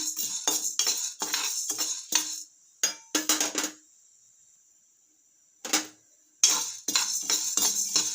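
Jowar (sorghum) grains roasting in a pan for popped festival snacks, stirred in bursts of scraping and metallic clinks, broken by a stretch of near silence with a faint high hiss, then rapid rattling stirring resumes; no speech.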